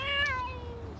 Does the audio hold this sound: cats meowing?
yes